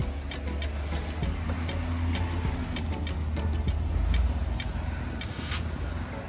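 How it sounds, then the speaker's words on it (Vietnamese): A bus in Nara, Japan, at the Tanzan Jinja shrine, rumbles low and steady nearby with its engine running, while scattered clicks and knocks sound over the drone. "Đây xe buýt này các bạn."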